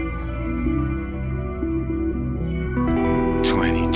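An electric guitar run through a ToneX pedal and BOSS GT-1000 plays a sustained, layered tone with heavy reverb and modulated echo, growing brighter and louder with a swirling wash near the end.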